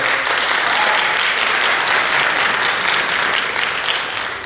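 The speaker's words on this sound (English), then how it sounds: "Please give him a round of applause." An audience applauds steadily at a community law event, a dense, loud wash of clapping that fills the whole stretch without letting up and fades only slightly at the end.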